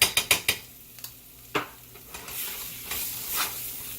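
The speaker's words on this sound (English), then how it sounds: "I'm adding 3 ounces of tomato paste" Tomato paste cooks with spices and ground beef for Frito pie in a pot, a quick burst of metal utensil taps opening before a low sizzle and occasional scraping stirs.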